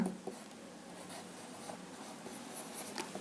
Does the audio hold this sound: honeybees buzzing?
no